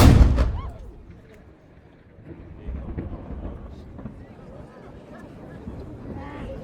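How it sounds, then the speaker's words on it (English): A single ceremonial cannon shot from the Valletta Saluting Battery in Malta at the noon salute booms loud and close at the start, then rolls away in a long, fading echo over background rumble. "One gun, fire!"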